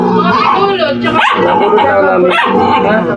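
A dog barks close by in a Filipino home setting, with a few sharp barks and whimpering yips riding over steady chatter from people talking throughout.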